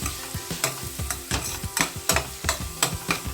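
Brinjal curry fries in a pan with chutney powder added, and a spatula scrapes and stirs it in quick rhythmic strokes over a steady sizzle. Close and clear, with no voices.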